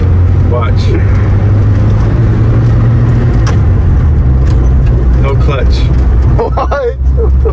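Steady engine drone from inside a manual-transmission car being shifted into third gear without using the clutch, with the low hum continuing throughout and faint voices near the end.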